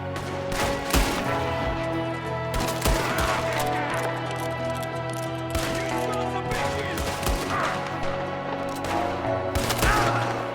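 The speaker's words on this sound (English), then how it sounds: "There's another one shooting from the window." Repeated gunfire in Red Dead Redemption 2 cracks out from a window as a shootout rages, with sharp shots at irregular intervals layered over a busy, droning game soundscape.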